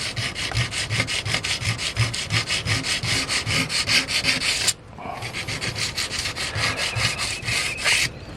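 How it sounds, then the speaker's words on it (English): Rhythmic back-and-forth scraping of wet abrasive paper on a 1060 steel wakizashi sword blade, steady strokes repeating quickly, close and loud, with a brief pause midway. "I'm wet sanding it right now."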